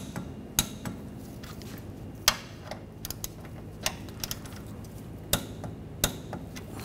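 A torque wrench tightens the rear shock mount bolts on a 2009-2013 BMW 328i, giving sharp isolated metallic clicks and taps at irregular intervals over a quiet garage background, with no talk.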